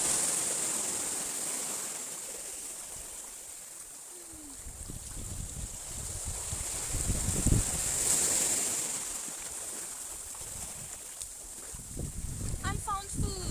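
Ocean surf washes onto Tadano Beach on Iriomote Island as the tide rises, a soft rolling rush that swells and fades under wind buffeting the microphone.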